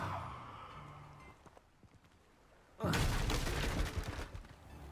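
Incendio fire spell cast in Hogwarts Legacy: after a quieter stretch, a sudden loud burst of crackling, roaring flame erupts and sustains for about two seconds, close and dense.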